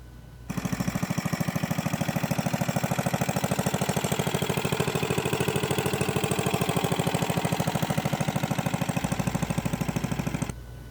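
A small International Cub Cadet garden tractor engine runs steadily at a fast, even idle for about ten seconds, close by, with a rapid regular chugging pulse and no talking.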